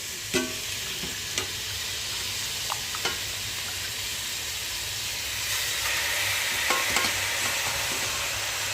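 Chicken sizzles and fries in a pan for biryani, with a steady hiss and occasional sharp scraping clicks of stirring throughout, growing slightly louder toward the end.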